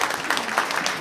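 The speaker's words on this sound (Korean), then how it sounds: "박수 한번 주십시오" Audience applause at a Korean residents' public hearing about building a community sports center, a short dense burst of many hands clapping together in an indoor hall.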